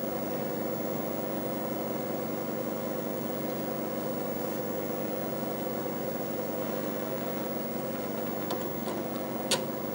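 Steady loud whirring drone of the cooling fan in an Apple IIe computer, a constant broadband hum that holds evenly for the whole stretch with a faint click near the end.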